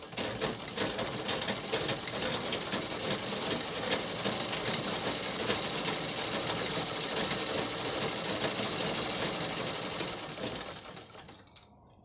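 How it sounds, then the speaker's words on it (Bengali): A sewing machine runs continuously for about eleven seconds with a fast, even mechanical stitching rattle, close and steady, then winds down and stops. "অনেক দিন পরে মেশিনে বসলাম সেলাই করতে"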